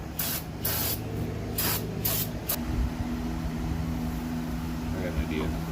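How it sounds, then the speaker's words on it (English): Several short bursts of aerosol spray hissing close by onto brake hardware of a 1996 Toyota Camry, then a steady mechanical hum with faint background noise. "Give this thing"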